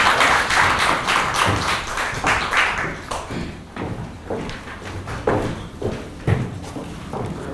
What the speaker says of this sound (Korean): 박수로 맞이해 주시면